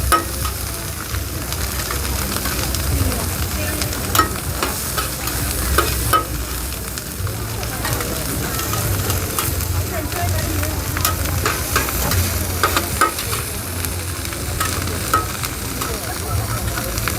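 An oyster omelette is stir-fried in a large pan with loud, continuous sizzling, and a spatula scrapes and clanks against the metal in irregular strokes throughout.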